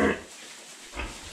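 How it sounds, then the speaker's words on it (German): Pigs grunting in a farm pen just after feeding, two loud grunts near the start and another around the one-second mark, close by with quiet between. "So, und jetzt sind unten beide Schweine."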